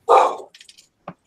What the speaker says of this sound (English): I hear the doggy through the computer barking over there.